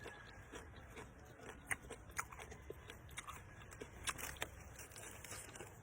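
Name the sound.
crunchy kangkong (water spinach) being bitten and chewed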